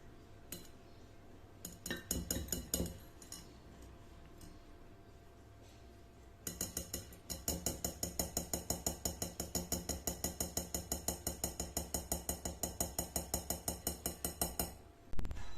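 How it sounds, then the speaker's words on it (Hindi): Maida flour being sifted through a metal sieve, first with a few scattered clinks, then a fast, regular metallic tapping that rattles on evenly for several seconds, close and crisp. "अब हमने क्या करना है कि मैदे को ज़रा छान लेते हैं।"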